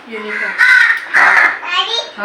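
Crows caw loudly and harshly in a few repeated bursts close by, with a voice mixed in.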